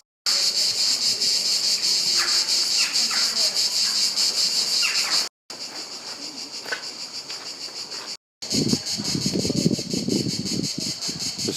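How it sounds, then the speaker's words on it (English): Cicadas buzzing in a steady, shrill drone throughout, with faint background noises and a few soft thumps underneath. "The sound of cigale makes me very happy."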